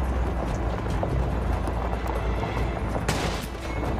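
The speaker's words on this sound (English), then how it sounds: "We're taking sniper fire from multiple directions" Sniper fire and battle noise in a Modern Warfare 2 cutscene, a steady roaring din of distant gunfire and rumble with a sharp crack near the three-second mark.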